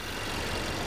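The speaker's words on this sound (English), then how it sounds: "Yeah, it's an engine." A 2019 Mazda CX-5 AWD with a turbocharged 2.5-liter engine idles close by with its hood open, giving a steady, even rumble that holds level for the whole short stretch with no talking.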